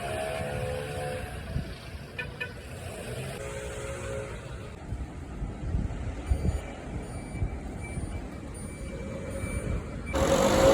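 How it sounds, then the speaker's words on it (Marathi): A grass collecting truck reverses at a lawn-cutting site, its engine rumbling steadily beneath a repeating reversing beep, with a louder burst of noise at the end. "कटिंग झाल्यानंतर ते गवत असं गोळा करून त्यांचा ग्रास कलेक्टिंग ट्रक येऊन ते घेऊन जातो."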